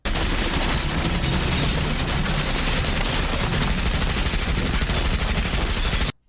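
Dense, continuous gunfire from the 1993 action film Excessive Force, a loud fusillade of rapid machine-gun bursts and shots running without pause for about six seconds before cutting off abruptly.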